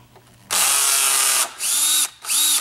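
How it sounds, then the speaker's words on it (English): A power driver backs out screws from a 2nd-generation Encore pedal boat: one long whirring run followed by two shorter bursts that rise and fall in pitch, close and loud with no talking. "Power driver is just much easier than a hand driver."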